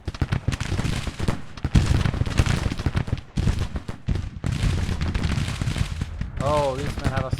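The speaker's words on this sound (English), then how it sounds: "I am firing into them." Musket volleys ring out in a Civil War battle video game set at Munfordville, with repeated crackling bursts of rifle fire rising and falling amid the busy din of combat.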